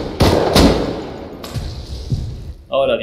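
Rust gameplay gunfire, with a few sharp loud shots early and lighter bursts later, each followed by a short decay, ending in a louder noisy burst.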